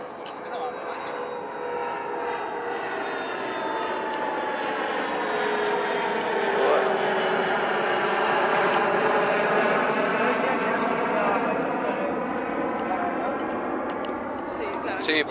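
A Bombardier CRJ regional jet at Madrid Barajas airport gives a loud, sustained, close-up jet roar with a rising and falling engine whine as it passes.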